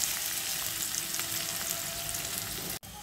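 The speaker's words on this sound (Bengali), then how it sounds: "এটা একটু নেড়েছে এর সাথে কষিয়ে নেব।" Chopped onion, green chili and bay leaf fry in a pan with a steady, close sizzle and soft stirring scrapes, cut by a brief sharp drop near the end.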